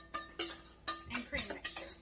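A utensil stirs a cheese and cream mixture for a pasta gratin in a bowl, giving six or seven quick clinks and scrapes in an irregular rhythm, close and fairly soft.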